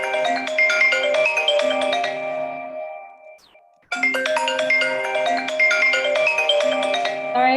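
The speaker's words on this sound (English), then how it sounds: "Sorry for the person that has their phone screaming." A mobile phone ringtone blares loudly into a video call during a startup pitch event, a repeating electronic melody that cuts off briefly near the middle and then starts again, with no talking over it.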